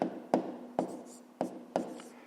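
A pen scratches out figures on paper at close range, a handful of short separate strokes and taps in an uneven rhythm, quiet and with no one talking.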